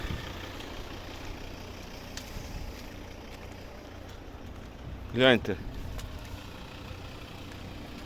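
A 2011 Volvo V50 2.0 D3 five-cylinder diesel idles with a low, even rumble and steady exhaust throb; a person briefly speaks a single word partway through.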